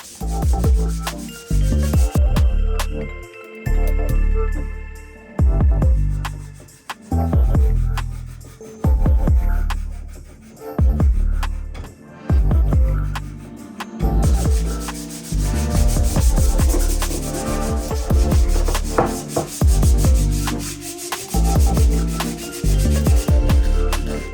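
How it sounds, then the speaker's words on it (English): Repeated rhythmic rubbing and scraping of sandpaper against a 3D-printed sword part, steady back-and-forth strokes, close and fairly loud with no talking. "don't be afraid to use a little bit of sandpaper to polish a few things up"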